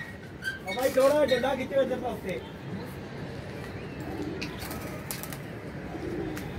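A pigeon coos at a pigeon perch, low murmuring calls heard briefly near the start, with people talking loudly nearby and outdoor noise throughout.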